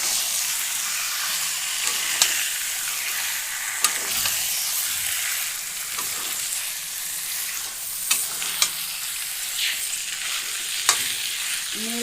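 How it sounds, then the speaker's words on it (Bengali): Chicken is frying with spice paste in a pan, making a constant bright sizzle with occasional sharp scrapes and knocks from stirring. "মাংসটা দিয়ে মশলাটার সঙ্গে ভালো করে মিশিয়ে দেবো।"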